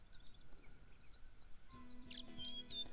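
Tree swallows in a grassland meadow give thin, high chirping calls that rise over faint outdoor background noise and grow more continuous toward the end, with no voices.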